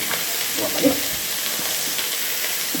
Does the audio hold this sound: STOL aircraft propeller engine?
no